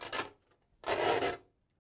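Replacement adhesive strips being peeled from an LG LCD panel during servicing, two close, dry rasping rips in a row, the second longer than the first, with no voices.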